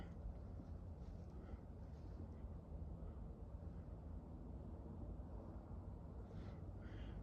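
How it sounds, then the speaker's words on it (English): A distant airplane passes overhead on a quiet night in the woods on a ridge, a steady low broadband rumble that holds level throughout with no other prominent sounds. "airplane overhead"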